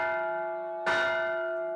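A cast musical bell rings with a long shimmering sustain, then is struck hard once more midway, its fresh clang blooming over the fading hum of the earlier strike, close and alone without voices.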